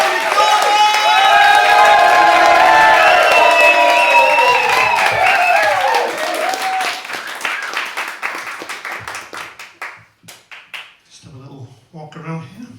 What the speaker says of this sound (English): Would you mind starting a round of applause?